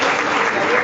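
A conference audience applauds in a short, dense burst of steady clapping that lasts under a second.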